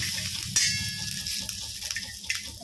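Onion frying in a pan for stuffed masala brinjal, giving a steady close sizzle with occasional clinks of a spatula against the pan and no talking.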